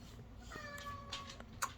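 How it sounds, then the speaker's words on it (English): Indoor cats meowing in a home, with a few faint, drawn-out tonal meows and soft rustling under a quiet room background. "If you hear my kitty cats, they are crazy."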